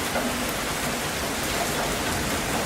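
Steady pouring rain falling on the ground, a dense even hiss that continues without a break, with no voices present.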